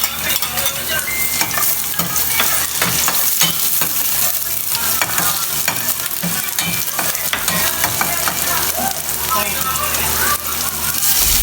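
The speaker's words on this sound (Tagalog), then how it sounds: "Nilagay ko na nga itong bawang tapos isusunod ko na nga itong sibuyas." Garlic and then onion frying in oil in a pan: a dense, steady sizzle with scraping stirs running throughout, loud and close, with background sound underneath.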